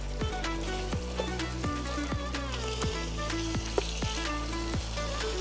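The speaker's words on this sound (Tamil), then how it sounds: "மசாலாவில் சிக்கன் நல்லா கொஞ்சம் வேகட்டும்" Chicken simmering in biryani masala with oil and ghee sizzles steadily up close, with regular bubbling pops bursting about every half second throughout.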